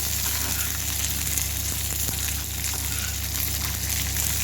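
Chillies frying in a pan for a fenugreek-leaf and tomato roti pachadi make a constant, dense sizzling hiss that stays at an even level throughout, with no clear breaks.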